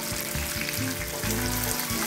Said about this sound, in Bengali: আমি দ্বিতীয়বার করে কাঁচকলাগুলো ভেজে নিচ্ছি